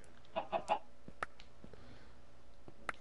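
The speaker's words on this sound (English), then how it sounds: "Got my chicken farm." Minecraft chickens cluck in a quick burst of close, short clucks from a chicken farm, followed by quieter game sounds and a few fainter clucks.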